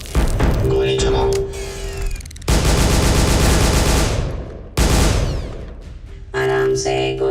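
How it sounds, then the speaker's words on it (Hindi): Bursts of movie gunfire, with rapid automatic shots and booming blasts, come in several loud stretches separated by short gaps, with a tonal score sounding between them. "गोली चलाओ।"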